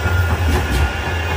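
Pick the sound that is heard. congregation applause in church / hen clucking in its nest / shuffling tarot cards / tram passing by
tram passing by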